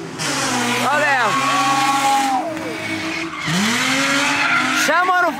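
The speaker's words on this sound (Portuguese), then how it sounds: "Chamando o freio de mão, chamando o drift." Cars drifting at a championship event, tires squealing loudly in repeated rising and falling screeches as handbrakes are pulled, engines revving underneath, with excited voices talking over the action throughout.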